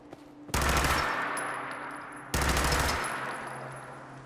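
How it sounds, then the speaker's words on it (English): Automatic gunfire from the unmodded Fallout 4 game sounds in two loud, rapid bursts, each breaking off into a fading tail, with no speech over them. "Now I'll show a clip of me shooting the same gun, but in the vanilla game."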